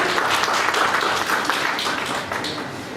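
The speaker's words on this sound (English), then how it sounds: "Can we have a round of applause for the first" A seated audience gives a speaker at a professional seminar a short round of applause, a dense, even clapping that thins slightly toward the end.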